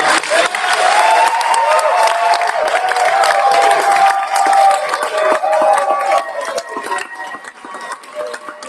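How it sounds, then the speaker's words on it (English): A round of applause and cheering from an audience at an election event, dense clapping with whoops that holds steady and then thins out toward the end. "Can we give a huge round of applause for us?"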